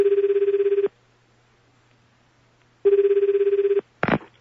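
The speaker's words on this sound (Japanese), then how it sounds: "今から夜長くんに電話したいと思います" Ringback tone of an outgoing phone call: two evenly spaced, buzzing rings about a second long each with a pause between, followed by a brief click as the line is picked up.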